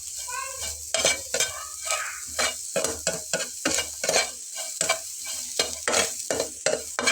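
Potato snacks fry and sizzle in a salted pan, with repeated stirring scrapes of a utensil against the metal in an uneven rhythm over a steady hiss.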